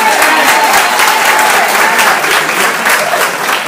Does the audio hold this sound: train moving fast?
no